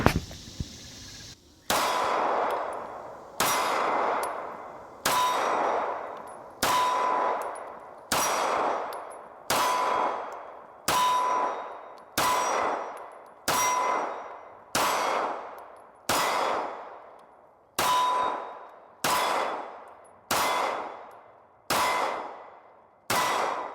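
Glock 45 pistol fitted with a Radian Ramjet fires about thirteen evenly paced shots at steel targets, each crack followed by a ringing clang of struck steel, loud and close with no talking.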